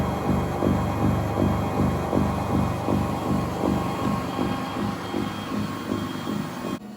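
A Toputure TP6 treadmill with a 2.5 horsepower motor runs with a steady low hum and a regular thumping rhythm, about two beats per second, at moderate volume close by. No one speaks over it.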